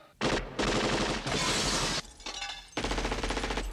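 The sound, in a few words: gunfire shattering glass in a film scene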